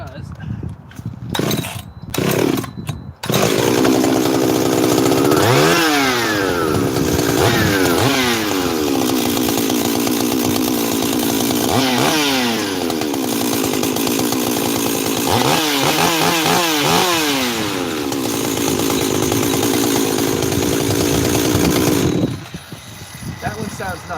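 A model 272 chainsaw starts after a few sharp pulls and runs loud and close for about twenty seconds, revving up and down repeatedly in a harsh buzzing roar before cutting off.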